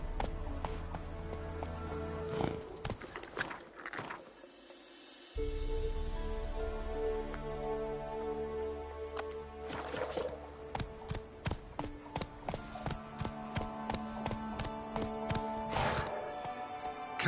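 In The Witcher 3, the horse Roach gallops with rapid, rhythmic hoof clip-clops alongside game music, broken by a short pause before the hooves pick up again.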